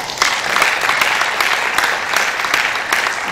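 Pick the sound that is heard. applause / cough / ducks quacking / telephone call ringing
applause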